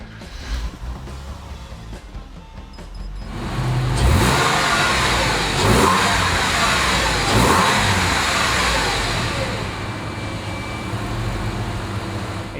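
A 1999 Porsche 911 Cabriolet engine turns over and catches, then revs up in several loud bursts before settling into a rumbling idle, close by with no talking.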